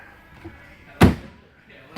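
A single solid slam of a 1948 Allard L Type driver's door lands sharply in the middle, with quiet rustling around it and another faint thump at the end.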